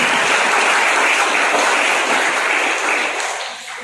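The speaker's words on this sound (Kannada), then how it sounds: "ಜೋರಾದ ಚಪ್ಪಾಳೆ" Loud audience applause at a commemorative event, a thick, continuous roar of clapping from a large crowd that holds steady and then begins to ease off near the end.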